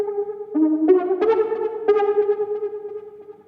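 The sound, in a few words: Umbra Keys U Key 04 synth sound with delay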